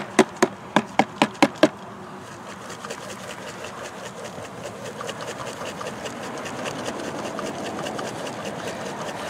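Honeybees shaken in a jar with powdered sugar for a mite check: six sharp rhythmic shaking knocks come first, then a close, rising, agitated buzzing hum continues.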